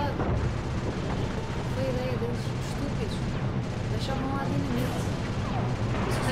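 Machine gun fire pounds against rocks in Sly 2, a dense continuous barrage of gunfire and rumbling impacts running steadily throughout.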